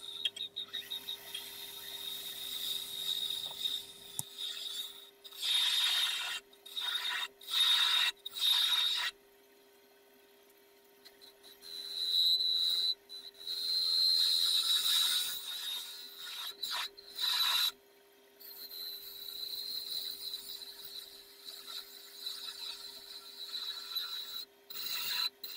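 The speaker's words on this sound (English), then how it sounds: "I start shaping the outside with a half-inch spindle gouge." A half-inch spindle gouge cuts a wooden egg cup on a lathe, giving a scraping, rasping hiss in repeated passes separated by short pauses, over a steady faint motor hum.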